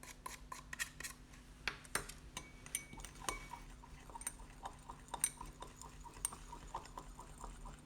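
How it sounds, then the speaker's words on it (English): Faint, irregular clinks and ticks of a stirrer tapping against a glass beaker as ammonium chloride is mixed into water, soft scattered contacts over a low steady hum, with no voices. "Then we add ammonium chloride and stir nicely."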